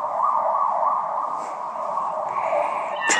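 An emergency vehicle siren, heard as an ambulance, wails steadily and fairly loud in a rising and falling tone, lasting through the whole stretch with no talk over it.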